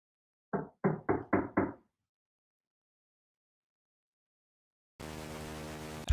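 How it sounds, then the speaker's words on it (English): Police officers knock on a door: five firm raps in a quick, even run, loud and close, then silence, followed by a burst of steady hiss near the end. "multiple police officers knocked on his door to see if Li was in there"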